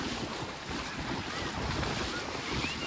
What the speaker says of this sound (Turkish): Şu dalgaları çok özlemiştim ben videoları izlerken.